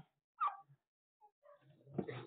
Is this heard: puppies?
yes